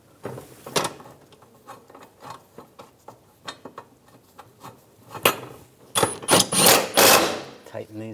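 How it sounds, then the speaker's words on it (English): Bolts are being tightened while a starter is installed on a 2006-2009 Mercedes-Benz E350, giving a string of close, irregular metallic ratchet clicks and clanks, with a few sharper knocks near the end and talk in between. "And tighten these two bolts down."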